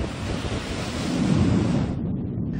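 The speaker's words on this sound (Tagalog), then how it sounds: "lumakas ang hangin at lumaki ang mga alon sa Municipal Fish Landing sa bayan ng Pio Duran sa Albay" Strong typhoon winds and big waves from Typhoon Opong hit the municipal fish landing at Pio Duran, Albay. The surf roars loudly and continuously, with wind buffeting the microphone, then eases slightly near the end.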